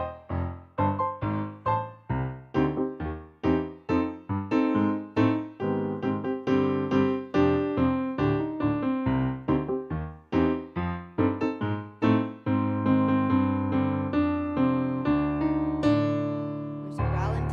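Solo piano rushes through a dense, dramatic closing passage of rapid chords and runs, then slows in a rallentando and settles on a final sustained chord, played close and fairly loud with no talking.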